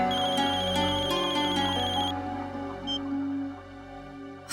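A phone ringtone chimes in a Hindi family TV drama, a bright repeating electronic melody that stops abruptly partway through, followed by a quieter room.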